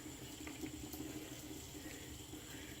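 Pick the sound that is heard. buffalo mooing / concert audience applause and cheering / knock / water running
water running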